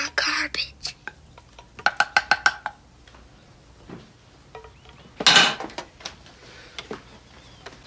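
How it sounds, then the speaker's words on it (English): Kitchen clatter of pots and pans while garbage is being cooked: sharp metallic clanks and a quick burst of rapid knocks, then a loud scraping clatter, heard close amid quieter pauses. "He's cooking our garbage."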